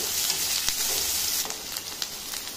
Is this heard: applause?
no